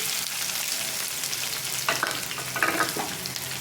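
Green chillies and onions frying in hot oil, a steady loud sizzle broken by a few scraping stirs near the end, no one speaking.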